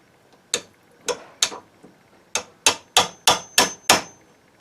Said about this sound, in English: Chisel's not quite as wide as the mortise for the faceplate, so I'm just putting a little bit left and a little bit right.